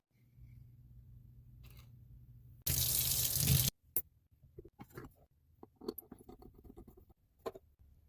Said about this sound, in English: then you put water just to the top of the shot